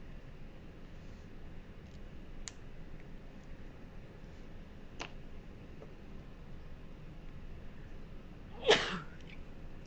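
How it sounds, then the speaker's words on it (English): One sudden, fairly loud human sneeze near the end, with a few faint ticks and clicks over a quiet room before it and no talking. "Sorry, I had to sneeze."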